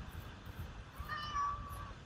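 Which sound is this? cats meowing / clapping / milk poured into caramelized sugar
cats meowing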